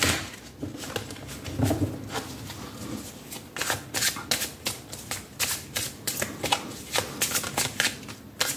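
Tarot cards are shuffled by hand in repeated quick riffling bursts, close and crisp, forming an irregular patter of papery snaps against a quiet room.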